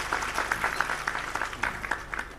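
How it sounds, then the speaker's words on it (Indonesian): An audience claps for a newly arrived regional police chief at a public gathering: a dense, steady patter of many hands, fairly quiet and evenly sustained, with no one talking over it. "Tepuk tangan untuk Pak Kapolda."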